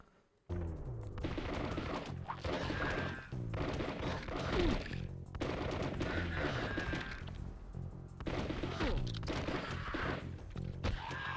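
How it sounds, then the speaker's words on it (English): Gunfire in the Constantine video game: repeated loud bursts of shots and impacts in rough clusters, with brief gaps between volleys and dense game effects throughout. "Gunshots."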